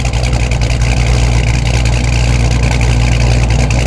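A 426 Hemi engine idles loudly and steadily, a deep continuous rumble with a fast throbbing pulse, close and unbroken throughout.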